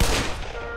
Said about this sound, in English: that was a grenade, man